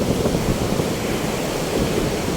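Strong wind roars in a dense, constant rush, buffeting the microphone without letup; no voices are present.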